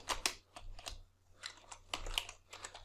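Typing on a computer keyboard, a quick uneven series of close, crisp key clicks in short bursts with small pauses, fairly quiet over a low steady hum.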